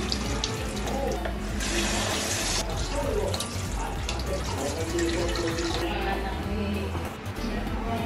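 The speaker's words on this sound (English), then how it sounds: "the first thing that we need to do is to drain the Tanigue" Water running steadily from a tap into a sink while tanigue fish is drained and rinsed for kinilaw, a continuous close splashing flow that lasts throughout.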